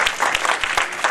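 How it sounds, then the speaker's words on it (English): Applause from an audience at a North Miami mayor's literacy week event, a short burst of steady clapping with distinct hand claps standing out, no talking. "Round of applause."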